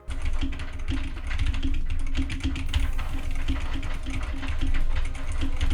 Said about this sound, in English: I can hear myself typing on the keyboard